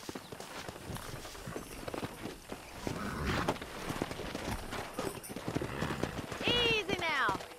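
Wild horses in the Western video game Red Dead Redemption clop along with irregular hoofbeats and snorts, closing on a loud, close whinny near the end, with voices speaking over much of it.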